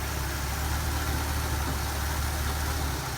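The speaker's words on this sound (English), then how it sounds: "Sounds a whole lot better. We just did points, condenser, full tune-up on the Soto here." A 1956 De Soto with a dual-points distributor, freshly tuned with new points and condenser, idles steadily close up, a smooth low rumble holding even throughout with no voices.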